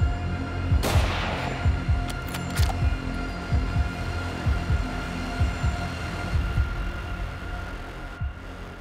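A single sharp rifle shot cracks out during an African buffalo hunt, followed by a brief echo, with a low rumbling hum and faint thumping in the background and no speech.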